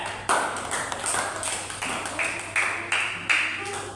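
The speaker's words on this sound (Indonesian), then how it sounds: "Tepuk tangan untuk kelompok 3" Classroom applause for student group 3 after their presentation, heard as a burst of hand claps with sharp, tapping accents, fairly close and steady for a few seconds with no talking over it.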